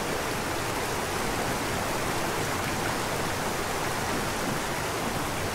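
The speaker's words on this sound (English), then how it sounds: "Here comes the next waterfall." A waterfall in the video game ArcheAge roars as a steady, dense rush of water, constant and fairly loud throughout with no voices.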